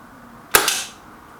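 A Kral Nish air rifle fires a single sharp, close shot during a target shooting round, a crisp crack followed by a short fading tail.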